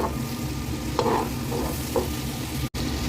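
Butter sizzles in a pan for butter garlic shrimp, a steady close crackle with a few soft stirring scrapes and a brief cut near the end, no talk.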